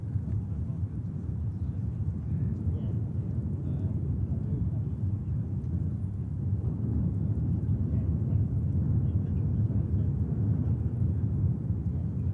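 A Eurofighter Typhoon military jet flies west of Blackburn, heard as a distant, steady low roar that rumbles on evenly without letting up.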